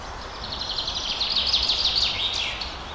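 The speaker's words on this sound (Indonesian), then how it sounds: "terdengar suara kicau burung yang beraneka ragam" Several kinds of birds chirp and trill near a forest path at the Kedung Biru spring in Singosari, their calls steady and moderately distant over a soft background hiss of running water.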